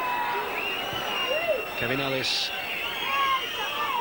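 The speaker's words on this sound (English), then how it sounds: "Whistles and shrieks coming from the crowd" A rugby league crowd at a 1991 Warrington v Leeds Regal Trophy match whistles and shrieks in the background, with a brief high whistle standing out, while a commentator talks over it throughout.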